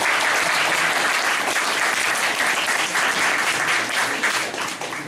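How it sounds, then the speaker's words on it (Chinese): Sustained audience applause fills a hall during a talk event, dense and steady clapping from many hands that thins slightly toward the end. "大家给他点掌声"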